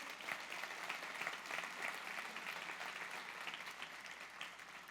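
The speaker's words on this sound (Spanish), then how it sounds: "¿Le puedes dar un fuerte aplauso al Señor si das la razón?" A church congregation breaks into loud applause during a sermon, a dense, even wash of clapping sustained for several seconds from a large crowd.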